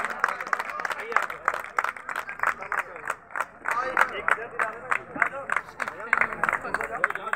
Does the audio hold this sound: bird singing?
no